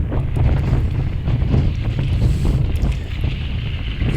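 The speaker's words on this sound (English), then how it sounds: "the wind's right in our face, and actually it's quite hard work" Strong headwind roaring steadily across the microphone during a bike ride along a country lane and bridleway, a loud continuous low buffeting rush with no speech.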